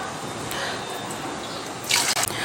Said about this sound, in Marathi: यामध्ये मी आणखी थोडंसं गरम पाणी घालते